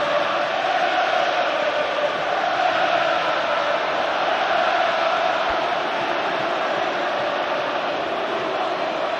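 A football crowd at Old Trafford during the Manchester United versus Leicester City FA Cup match makes a dense, continuous roar. It stays loud and even, with no single voice standing out.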